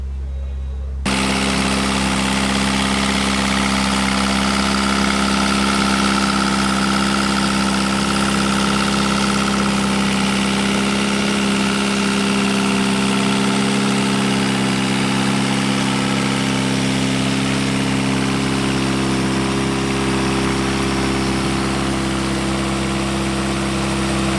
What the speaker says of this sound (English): so the engine's actually working